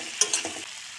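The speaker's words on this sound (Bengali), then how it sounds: "ভেজে রাখা বেগুন দিয়ে আবার হালকাভাবে নেড়ে চেড়ে" Fried eggplant being stirred in a pan, a few quick scraping clinks of a utensil over a soft, low sizzle, close and brief, with no talking.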